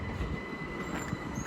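A Southeastern class 375 electric multiple unit rolls into Ashford International station on a service to Ramsgate, giving a steady close rumble of wheels on rail with faint high squeals throughout.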